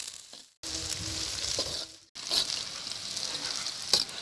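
Onions sizzle in hot oil in a pan, a steady bright frying hiss that cuts out sharply twice, with soft stirring scrapes underneath.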